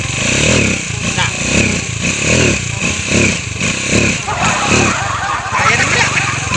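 A newly bought motorcycle revving close by, its engine pulsing in repeated throttle bursts with a rough clattering rhythm while people talk over it.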